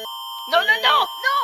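Emergency Alert System attention tone: a loud electronic alert with steady high tones running throughout, joined by short bursts of brighter warbling tones partway through.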